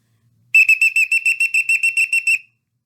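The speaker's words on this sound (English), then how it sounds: "Immediately get the attention of students through loud, rapid whistle blows for an extended time" A whistle sounds in a rapid series of about a dozen loud, sharp, evenly spaced blasts lasting roughly two seconds, given as a school safety alert to get students' attention.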